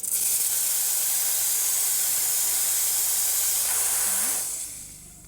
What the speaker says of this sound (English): and then of course the steam.